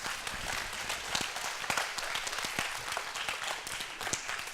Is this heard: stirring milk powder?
no